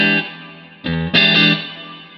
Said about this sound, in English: Spring is definitely hard to nail because it's really a feel thing with the spring reverb.